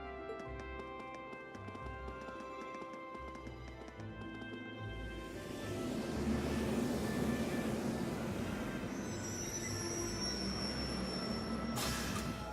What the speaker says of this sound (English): That train's arriving.